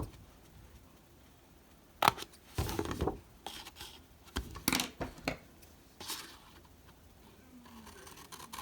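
Scissors snipping along the bottom score line of a paper craft box, a few close, quiet cuts and rustles in bursts separated by short pauses, with no talking.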